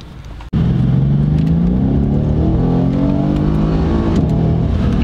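A Mercedes-AMG C63 S Coupe V8 with its exhaust mode switched on fires up and accelerates hard, the engine note climbing steadily in pitch through a gear, loud and close with no talking.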